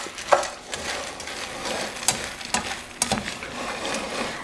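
Barley grains being stirred in a pan while roasting, with soft scraping sweeps and occasional light clinks against the pan at a steady, unhurried pace, close by and without talk.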